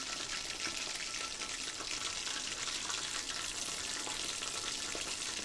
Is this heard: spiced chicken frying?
yes